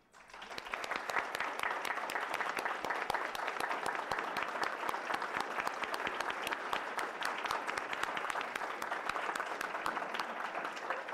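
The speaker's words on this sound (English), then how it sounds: "Let's give them applause" Sustained, dense clapping from an audience honoring students at a school board meeting, rising quickly and holding steady and loud throughout.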